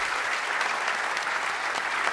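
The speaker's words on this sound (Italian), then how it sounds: "L'ultimo applauso per Massimo Radina" An audience at an end-of-season sports gala in a hall applauds for Massimo Radina, dense continuous clapping from a large crowd, loud and even throughout.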